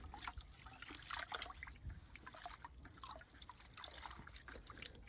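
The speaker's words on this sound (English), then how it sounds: "So just rinsing and rinsing, trying to keep it all in the bucket." Water rinsing and trickling into a bucket during a house renovation, a soft continuous splashing flow with small irregular drips, fairly quiet and close, with no talking.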